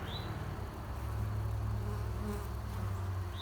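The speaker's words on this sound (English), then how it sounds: "got some bees in this box" Honey bees buzz steadily around a swarm trap box, a close, dense, continuous drone with no voices.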